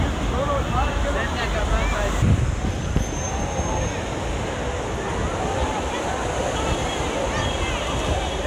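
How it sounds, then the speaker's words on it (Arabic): Calm to medium sea waves wash steadily along an Alexandria beach, a continuous broad surf hiss with wind buffeting the microphone throughout and no clear separate breakers. "الشواطئ بتشهد أمواج يعني متوسطة وهادئة إلى حد ما"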